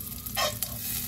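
A teaspoon of butter sizzling in a hot pan as it is stirred in, a short burst of sizzle and a quick scrape over a low hum.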